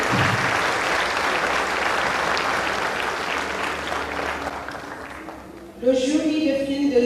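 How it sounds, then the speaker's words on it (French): Sustained applause from the audience at the Ecrans Noirs film festival ceremony in July 2014, a dense, steady clapping for about six seconds before it drops away and a voice begins speaking. "Je vous prie d'applaudir."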